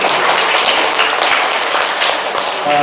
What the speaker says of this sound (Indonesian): kita berikan tepuk tangan untuk narasumber kita